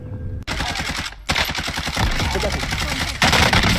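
Rapid bursts of gunfire from the Warzone video game, close and loud, with repeated shots and a brief pause before more firing continues.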